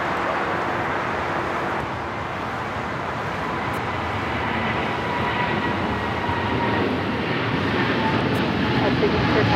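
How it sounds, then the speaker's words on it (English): A China Cargo Airlines Boeing 777 freighter bound for Shanghai takes off from LAX, a dense, continuous engine roar holding steady and strong for the whole stretch, with a voice talking over it. "This is the Cargo King, China Cargo Airlines 222, taking off to Shanghai on a 777 freighter."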